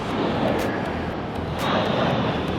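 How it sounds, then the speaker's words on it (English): Jet fighters roar overhead as a continuous, loud broadband rush of engine noise that swells slightly without fading away, with no talking. "Jet fighters flying by."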